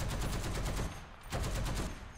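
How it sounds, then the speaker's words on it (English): Short machine gun bursts from a tank in the War Thunder video game, firing at a Panzer II, come as rapid loud rattling volleys with a brief gap between two bursts and no voice over them. "Just some short bursts have taken out both tracks."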